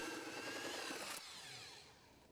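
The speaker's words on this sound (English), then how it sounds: "a 3-inch hole saw bores a hole large enough for the pipe" A 3-inch hole saw on a power drill grinds loudly through a wooden rim joist, then breaks through and winds down over the last second.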